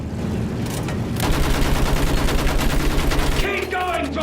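Sustained machine gun fire in a World War I battle scene from Battlefield 1, a loud rapid stream of shots over rumbling combat noise that shifts near the end.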